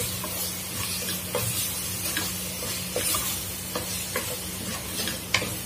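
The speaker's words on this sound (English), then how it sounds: "Now we have to mix all these spices so they are equally balanced into this" Spoon stirring and mixing spice paste in a pan for chickpea gravy, with soft scraping strokes at an uneven rhythm over a steady low sizzle and hiss, heard up close without talking.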